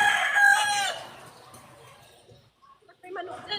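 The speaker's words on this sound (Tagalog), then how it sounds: "Ba't may manok dyan?" A rooster crows once nearby, loud and drawn out at the start before fading, followed by quieter clucking and people talking softly in the background.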